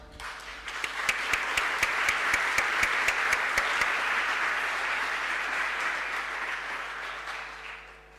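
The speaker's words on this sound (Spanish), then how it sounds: "Les pido un fuerte aplauso." Audience applause at a seminar on trust, with a few sharp individual claps standing out early over a broad, steady wash of clapping that fades gently at the close.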